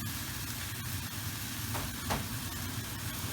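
Beef and tomato paste sizzle steadily in a hot pan, with soft scraping strokes as a utensil stirs the mixture through.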